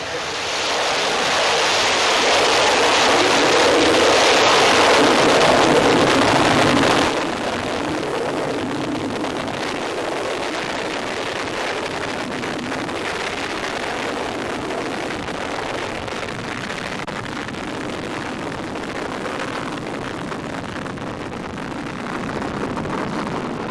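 Astra Flight Vehicle 0006 rocket ignites and lifts off, a loud broad roar building over the first seconds, then dropping to a steadier, more distant rumble that continues to the end.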